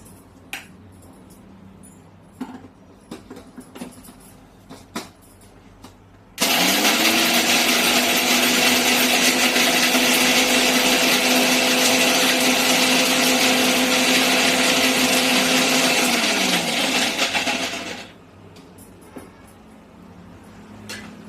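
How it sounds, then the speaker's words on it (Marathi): Mixer grinder blending onion, garlic and masala spices for onion-garlic masala: a loud, steady motor whine that starts abruptly, runs about eleven seconds, then winds down, with light kitchen clinks before and after. "आधी हे दळायचं"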